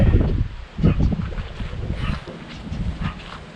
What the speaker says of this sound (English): it's really windy out here tonight